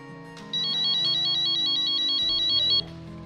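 Proximity sensor on an adaptive guide cane for blind users emitting a rapid, even train of high electronic beeps lasting about two seconds, clear and close.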